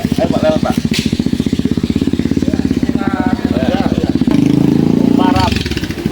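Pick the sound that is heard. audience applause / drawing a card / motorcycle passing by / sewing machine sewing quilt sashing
motorcycle passing by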